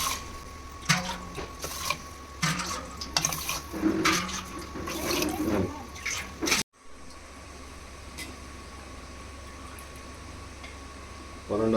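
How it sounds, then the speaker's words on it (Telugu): Rice being rinsed by hand with water in a home kitchen, splashing and sloshing sounds up close for several seconds, then a quieter stretch of faint running water. "ఒక గ్లాసు మామూలు రైస్, వీటిని కొంచెం వాష్ చేసుకుంటా"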